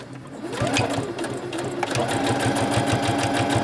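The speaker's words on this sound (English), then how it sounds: "And I'm just stitching along my outline." A sewing machine runs steadily as it stitches around the outline of a fabric letter keychain, a close, even, fast mechanical whir with rhythmic needle ticks throughout and no speech.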